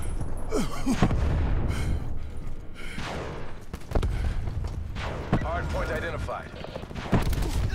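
Shotgun blasts in the video game Black Ops 4, a run of loud sharp bangs mixed with other gunfire and game effects, with people talking over the action.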